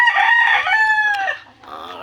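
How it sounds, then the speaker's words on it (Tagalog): Backyard chickens with a rooster crowing loudly and close by, a drawn-out cock-a-doodle-doo followed by a shorter second call, with no talk over it. "ito mga manok dari ka backyard walay tinago-tago"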